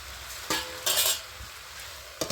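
Cauliflower stalk curry with green chillies cooks in a pan, a soft sizzle broken by a few short clinks and stirs of a utensil and a lid, close and fairly quiet, with no talk.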